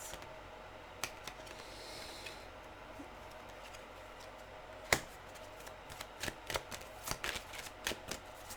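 Tarot cards being shuffled and drawn up close at low volume. Quiet riffling is followed by sharp snaps and clicks that cluster toward the end, with no speech.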